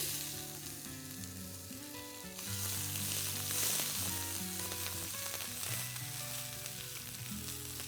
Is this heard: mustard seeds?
yes